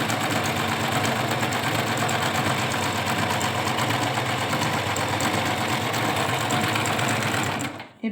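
A Singer sewing machine runs steadily in one long continuous stitching run, a dense, loud mechanical whir close by that cuts off abruptly at the end.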